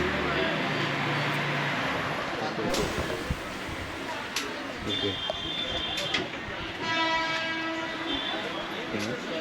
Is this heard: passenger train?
yes